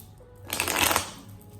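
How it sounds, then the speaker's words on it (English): Tarot cards shuffled by hand make one brief, close papery riffle that swells and fades within about a second, with no voices. "Let me shuffle the cards."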